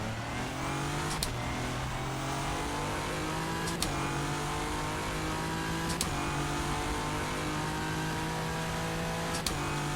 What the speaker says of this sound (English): Cars come out of the pits there, let's see if they get out of the way.